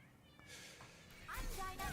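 During an Overwatch scrim, a voice imitates a cat with short meows, close and fairly clear, set against game noise and nearby chatter.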